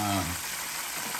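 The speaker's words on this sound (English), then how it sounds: "It's frying nice and good, just where I want it and everything." Continuous crackling sizzle of bacon-wrapped catfish frying in a hot pan, close and steady, with a brief hum at the start.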